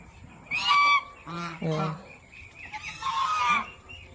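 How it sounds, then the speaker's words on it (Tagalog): Geese honk loudly and close by in a few repeated, nasal calls that overlap, with some clucking fowl in the background. "Yan yung mga makukulit nating gansa."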